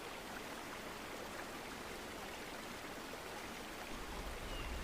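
Water from the Karekare waterfall stream near Auckland, New Zealand, rushes in a steady, dense hiss of flow that stays constant throughout with no voices.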